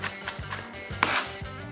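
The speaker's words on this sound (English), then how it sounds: "I like the flatter blade because it allows me to make good flat cuts on this onion, mincing it for our upcoming recipe" A flat-bladed chef's knife mincing an onion on a cutting board, several quick, crisp chops at an uneven pace, close and fairly quiet with no voices.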